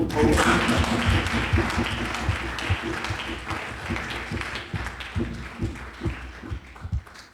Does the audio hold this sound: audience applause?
yes